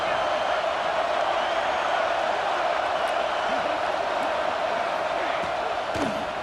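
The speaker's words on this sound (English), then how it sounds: "This crowd is trying to inspire this defense to make a big red zone stop." Stadium crowd roar from EA Sports College Football 26 during a red zone defensive stand, a loud, steady wash of massed voices with a few sharper shouts and thumps rising out of it.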